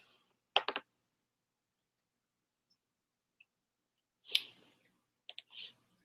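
A computer mouse gives a handful of sharp, close clicks spaced out over a few seconds, each crisp and isolated against near silence.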